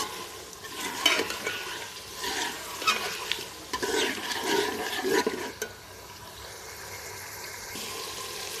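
Potatoes frying in a pan with spices, stirred in bursts of scraping and sizzling for several seconds before settling into a steady, quieter sizzle.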